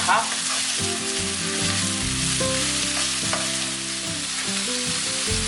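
Onions fry in a pan on medium to high heat with a dense, steady sizzle, close and loud throughout, without speech.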